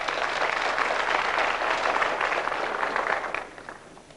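Studio audience at a 1998 Belgian quiz show, Belgium against DR Congo, applauding in a steady, dense round of clapping that fades out near the end.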